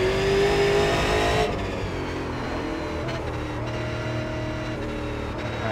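Race car engine in the iRacing Super Late Model sim, driven on the Thompson and Langley ovals: a loud, steady engine drone with shifting pitch as it laps, running alone without talk.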